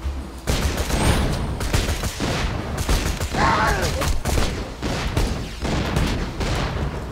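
Gunfire from a grenade gun in Borderlands 2, a dense, loud, continuous barrage of rapid shots and booming blasts that runs the whole time with little letup, close and heavy, with no clear talking.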